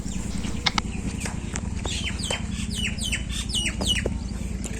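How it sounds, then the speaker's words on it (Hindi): Birds chirp repeatedly near the Baba Garib Nath Shiv temple at Raipur Maidan, with quick high sweeping calls in loose clusters over a steady low background hum in a quiet spot, with no talking. "आप पक्षियों की आवाज़ भी सुन सकते हैं।"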